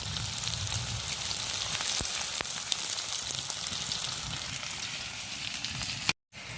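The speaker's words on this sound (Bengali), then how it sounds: "কাঁকরোলটা ভেজে নিই লাল লাল সুন্দর করে।" Spine gourd (kankrol) frying in oil in a pan on a stove, a continuous crackling sizzle close by, with no talking, before cutting off abruptly near the end.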